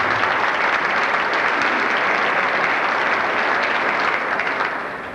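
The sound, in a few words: audience applause for award recipients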